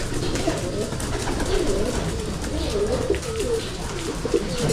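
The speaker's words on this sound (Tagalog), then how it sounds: "Bio pigeon ayan." Pigeons cooing inside a loft, several soft throaty coos repeating close by over a murmuring background, with a voice faintly present at times.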